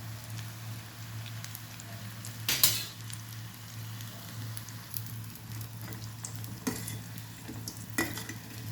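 Small vegetable bajjis frying in hot oil in a pan, a steady low sizzle and bubbling with occasional sharper crackles and stirring clatters.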